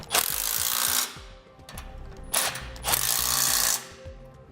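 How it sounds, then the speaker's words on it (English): A ratchet with a 3/4 inch socket snugs down the bolts of a Blue Ox base plate on a 2015 Jeep Wrangler, giving three loud, close bursts of rapid clicking separated by short pauses. "We'll now use a 3/4 inch socket and snug them down."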